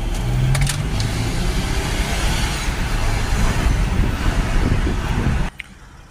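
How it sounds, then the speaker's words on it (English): A Mercedes GL350 with the 3.0 V6 is revved hard on a test drive, a loud, sustained engine roar that cuts off sharply near the end. "We'll give it some nice hard revs to get everything cleared out."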